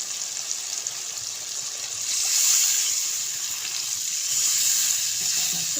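Water poured into frying masala for an egg ghotala curry makes a loud, continuous sizzle that swells partway through and keeps hissing steadily up close.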